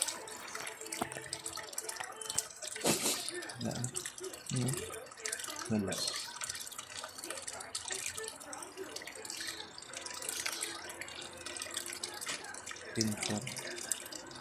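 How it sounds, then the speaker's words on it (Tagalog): Water pours steadily into the drum of a faulty LG automatic washing machine that keeps filling, a soft continuous rush and trickle heard close up, with someone talking intermittently over it. "Tuloy-tuloy lang yung karga niya ng tubig"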